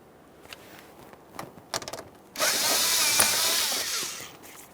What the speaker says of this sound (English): we'll be loosening this clamp with an 8mm or flathead screwdriver